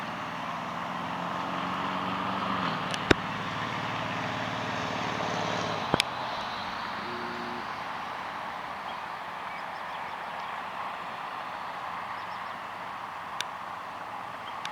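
An airplane passes overhead in a broad, steady distant roar that slowly fades, with a few sharp clicks and faint outdoor ambience.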